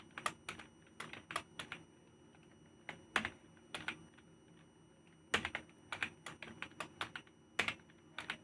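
Computer keyboard typing, as a letter is written, comes in quick bursts of crisp close key clicks separated by short pauses, fairly quiet and with no voices.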